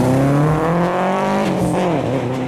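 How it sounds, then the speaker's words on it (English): A Subaru four-cylinder engine revs with a deep, uneven rumbling exhaust note from unequal-length headers, pitch rising and falling, loud and close. "leading to that more rumbly sound that you get from a Subaru"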